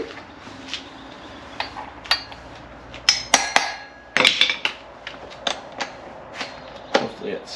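Several sharp metallic hammer strikes ring out at irregular intervals during a vintage Porsche 911 Targa rebuild, close by, separated by quieter pauses.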